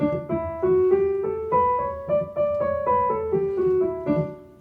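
Single keyboard notes climb up a major scale then come back down, each note struck clearly one after another at a steady, moderate pace.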